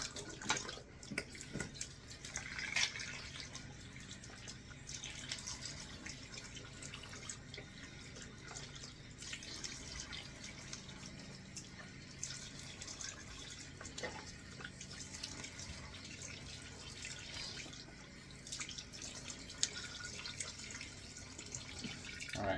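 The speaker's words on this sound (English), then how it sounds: "just cold water rinse" Cold water runs from a tap into a sink for a face rinse after a shave, a faint, steady trickle with splashes and drips as hands scoop and rinse.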